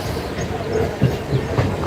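A Mumbai local commuter train rumbles close by in a loud, steady, broadband roar, with faint rhythmic clatter running through it.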